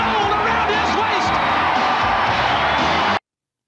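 A large wrestling arena crowd roars and cheers continuously, a dense wall of shouting and whooping voices that stays loud before cutting off abruptly near the end.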